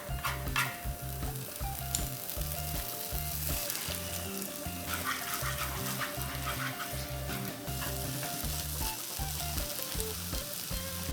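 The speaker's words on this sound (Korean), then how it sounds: "프라이팬에 식용유 2테이블스푼을 넣고 두부를 볶아줍니다." Tofu stir-fries in two tablespoons of cooking oil in a frying pan, with a continuous close sizzle and crackle and occasional stirring scrapes, under a steady rhythmic background beat.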